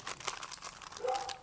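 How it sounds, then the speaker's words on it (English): Folded, crumpled baking paper crinkles and rustles in a close, continuous stream of dry crackles, with a slightly louder crunch near the end. "baking paper in there. I folded it and I crumpled it so it's fluffy, and it makes this really nice sound."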